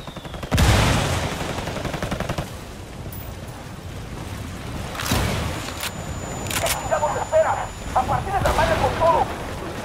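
Gunfire and a frag grenade blast from the Ghost Recon Wildlands video game: a sharp loud burst opens, then scattered shots and rumbling bangs follow, with voices heard between the impacts.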